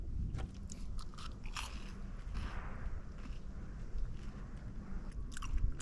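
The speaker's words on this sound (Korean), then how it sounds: "일단 씹을 때 그 바삭함이 있는데, 꽃감에 말랑말랑한 쫀득쫀득 하잖아요." Crispy fried dried persimmon, cooked as a tempura-style snack at a mountain campsite, chewed close up with steady crunchy bites over a constant outdoor background hum.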